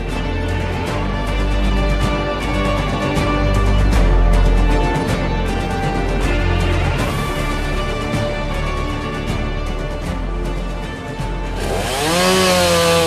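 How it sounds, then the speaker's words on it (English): Chainsaws roar steadily and loudly while cutting up trees during cleanup after a tornado in Cameron, a continuous close buzzing drone that rises and falls in pitch as the engine revs near the end. "The raw buzz of chainsaws cut the air as the cleanup began in Cameron."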